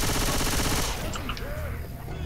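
Rapid automatic gunfire rattles loudly in Left 4 Dead 2 for about a second, then cuts off, leaving a quieter stretch with faint in-game sounds.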